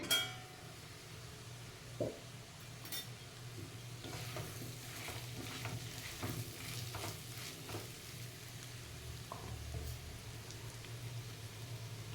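Potatoes frying in a pan for a dry potato sabji, a faint steady sizzle with soft scraping stirs scattered throughout and a sharp clink at the start, quiet and close, no talking.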